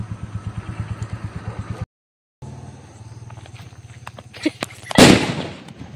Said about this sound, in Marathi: फटाका लावायला गेलाय